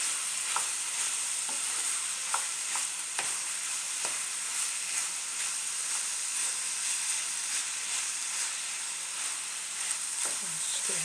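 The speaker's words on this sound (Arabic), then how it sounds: "دائما مع التحراك او الخلط" Ground ginger and turmeric are stirred in a sizzling frying pan, with a constant bright hiss of frying and scattered soft scrapes of the spoon across the pan.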